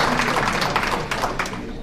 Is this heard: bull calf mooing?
no